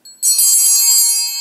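Hand bells ring out loudly after a soft first tap, their bright metallic tone sustaining and slowly fading.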